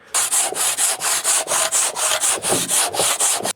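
A hand saw cuts through a masonry building block during a farm outbuilding renovation, a quick run of about fourteen even rasping back-and-forth strokes, close and loud with no talking.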